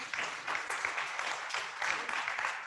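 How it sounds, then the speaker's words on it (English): Staff and guests at a birthday celebration give a round of applause, a dense wash of many hands clapping in a hall, steady and moderately loud, rising and falling slightly throughout. "So Genderlings staff, give yourselves a round of applause"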